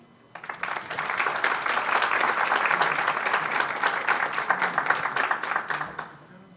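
Audience applause at a rare epilepsy symposium panel, a full sustained burst of clapping from a seated crowd that swells quickly, holds steady for several seconds, then tapers off.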